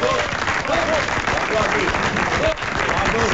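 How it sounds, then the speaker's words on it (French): A studio audience at a French radio-television comedy panel show breaks into sustained, dense applause, with a voice speaking briefly over the clapping. "je vais vous demander de les applaudir"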